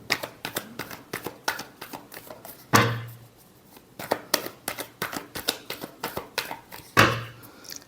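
Tarot cards being shuffled by hand, a quick run of crisp riffling snaps and slaps in steady bursts, with two louder bridging flutters standing out, close and otherwise quiet.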